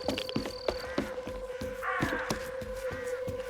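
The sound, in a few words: crows cawing in the video game S.T.A.L.K.E.R. 2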